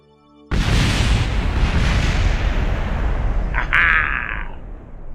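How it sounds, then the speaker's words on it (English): In the Kerbal Space Program game, a deep, roaring explosion bursts in suddenly after a moment of near silence and rumbles on loudly. A second, sharper blast cracks through partway in before the roar slowly fades. "Explosions."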